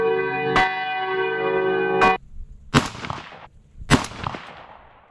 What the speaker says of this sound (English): Every time a bell rings, an angel gets his wings